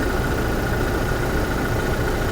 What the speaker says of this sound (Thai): นะครับเสียงเครื่องยนต์เดินปกตินะ ไม่มีผิดปกตินะ